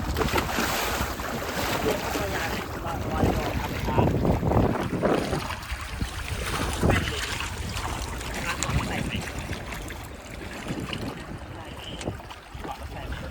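Motorboat ride on open sea near Koh Yak Let island, with steady engine drone, water rush and wind buffeting the microphone throughout, with voices talking at times.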